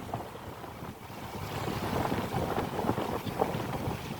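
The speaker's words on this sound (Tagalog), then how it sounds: "Malakas ang hangin." Strong wind on a beach roars and buffets the microphone in gusts, with a rushing, water-like wash underneath.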